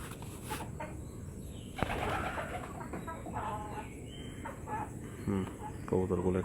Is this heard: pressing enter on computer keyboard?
no